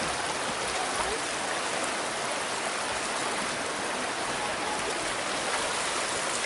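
Water pours steadily over a waterfall in Rouken Glen Park, Glasgow, making a continuous broadband rush that is close and even throughout, with no voices over it.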